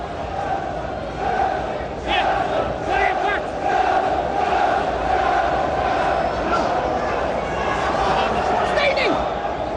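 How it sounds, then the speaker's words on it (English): A small band of travelling Chelsea supporters cheers and chants in a stadium crowd at a 1993/94 Premier League match against Blackburn Rovers, a dense, continuous roar from the stands under a commentator's voice. "that small band of travelling Chelsea supporters have another little reason to raise a hopeful cheer"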